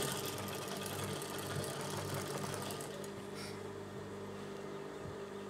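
A sewing machine stitches the lining of a churidar top, giving a soft, continuous motor whir with a fast mechanical needle rhythm that carries on quietly and evenly throughout.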